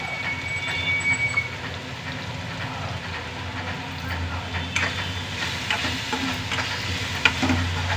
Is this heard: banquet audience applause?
no